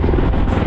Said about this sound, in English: It is an amazingly complex aircraft